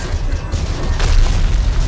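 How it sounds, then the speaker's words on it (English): A giant penny crashing into a wall in an audio drama, a dense rumbling boom with a rougher impact burst midway, loud and sustained over low noise. "The giant penny rolled in front of him, blocking him from the gunfire until it crashed into a wall."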